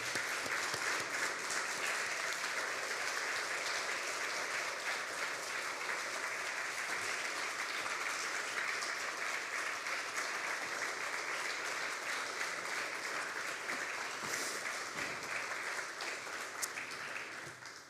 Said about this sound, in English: Will you stand up, ladies, for some applause?